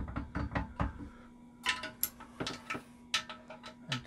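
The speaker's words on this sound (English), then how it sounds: "I'm tightening slightly." Bolts are tightened while a seated calf raise machine is assembled, giving a run of quiet clicks and ratcheting ticks with a few sharper metallic knocks, close by and without talk.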